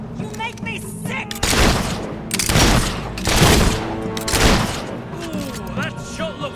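Gunshots in the video game Fable III, several loud booming blasts in a rough sequence mixed with music and game sounds, with a voice speaking over parts of it.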